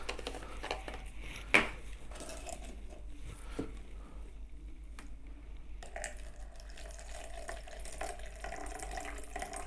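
Water poured into marbletop composite compound and stirred in, a faint, quiet wet swirl with a couple of light clinks near the start.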